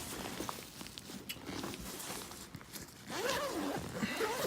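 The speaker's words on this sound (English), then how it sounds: "there's another zipper that goes all the way around the bag" A zipper running around a large PUSH paintball roller bag is pulled open in several quick rasping strokes, close up, followed by a longer continuous zip near the end.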